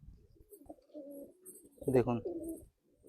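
Madrasi pigeons coo in a short, soft burst that swells near the end, set among low murmuring and someone talking close by.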